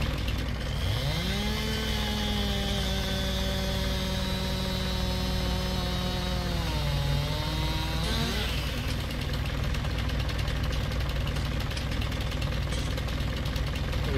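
In Farming Simulator 19, a game chainsaw cutting trees winds up into a steady buzzing whine, holds for several seconds, then dips in pitch and gives way to a rougher, continuous mechanical noise.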